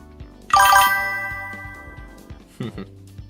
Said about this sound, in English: Notifications.